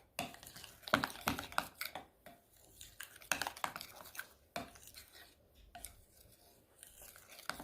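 Peppermint drops being stirred into melted white chocolate in a hot bowl, with irregular scraping and clinking of a utensil against the bowl, close and quiet, with no talking.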